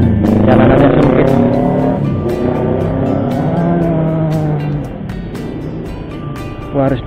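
A vehicle exhaust roars loudly up close on a narrow, uneven street, with strong rising and falling revs that ease off toward the end, while a person talks over it.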